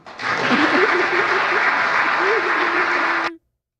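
Clapping on a live talk radio show, a dense burst of studio applause at a steady level with a wavering tone running under it, cutting off abruptly just before the end.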